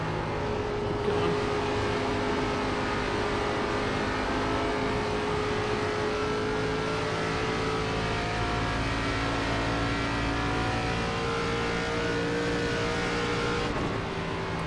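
Race car engine in the iRacing sim, an ARCA Legacy car lapping Charlotte, droning steadily at sustained high revs for the whole stretch with a slowly shifting pitch and no talk over it.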